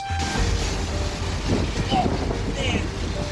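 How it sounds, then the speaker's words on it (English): Strong, steady wind roars and buffets the microphone throughout, a constant low rumble with gusty swells and no pauses. "it just really got very, very windy, probably 60 mile an hour winds to 70 mile an hour winds"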